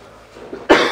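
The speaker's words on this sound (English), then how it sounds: "If you hear us coughing," A single short cough bursts out near the end, close and loud, after a brief quiet lead-in.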